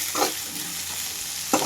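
Two chillies and onion frying in a pan of hot oil, a continuous close sizzle with a couple of brief stirring scrapes.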